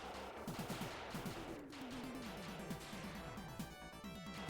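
Rapid bursts of retro gunfire from a character shooting bullets in a Contra-style side-scrolling platformer built in GDevelop, repeated quick shots in clusters over a busy, crackling background.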